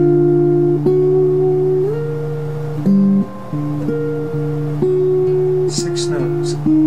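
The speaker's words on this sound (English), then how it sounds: "6 notes, jazz dominant scale." Guitar playing a six-note jazz dominant scale, single clear notes plucked one after another at a moderate, even pace, mostly alone with a brief voice near the end.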